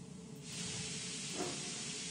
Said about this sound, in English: I have to block the steam. I could burn quite badly.